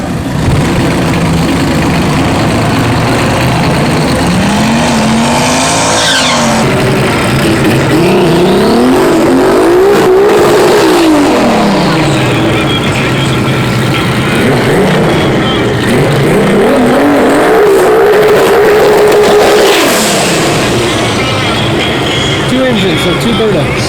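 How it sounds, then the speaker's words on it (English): A loud two-engine Volkswagen drag car engine revs up and down in repeated sweeping surges at a drag strip test day, close and roaring, with voices talking over it at times. "If you ever seen this Volkswagen on 1320, it is ridiculous. It's got two engines"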